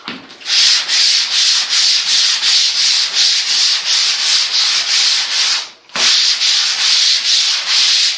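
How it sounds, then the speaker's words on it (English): Rapid, loud rhythmic strokes of a handheld sander working across a vehicle fender, with a brief pause near the end before the steady scrubbing resumes. "Just pick up the sander and sand"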